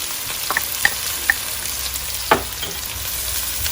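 Onion fries in hot oil with fenugreek seed, making a steady close sizzle. A few sharp little pops and ticks from the stirring break through the sizzle.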